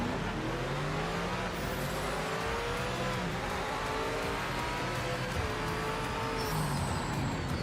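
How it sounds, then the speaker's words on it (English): A Cadillac race car engine in Project Motor Racing drones steadily and loudly throughout, with harmonic tones sliding up and down as it revs and shifts. "the Cadillac sounds are so good in this game"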